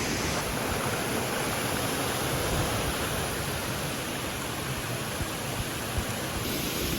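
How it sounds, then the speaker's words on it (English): Snowmelt water tumbling down a stream beside a winter hiking trail on Franconia Ridge, a constant, near hiss and roar of falling water that stays even throughout, with no talk. "Falling water, all right"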